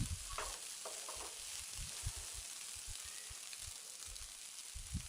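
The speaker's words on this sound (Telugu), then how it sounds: "1 టేబుల్ స్పూన్ మసాలా పొడిని వేసుకొని ఒకసారి బాగా కలుపుకోవాలి." Masala powder stirred into egg curry frying in a pan: a quiet, steady sizzle with soft, irregular scraping knocks of the spoon throughout.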